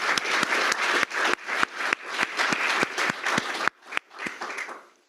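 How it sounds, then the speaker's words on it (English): An audience at a university professorship installation in chemical and biomolecular engineering gives a round of applause: sharp, close claps come in a dense run, then thin to a few scattered claps that trail away. "So please join me in a round of applause"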